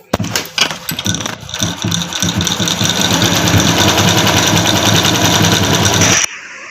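A computer embroidery machine restarts and stitches, opening with a few uneven knocks before settling into a loud, fast, steady mechanical rattle that stops sharply near the end.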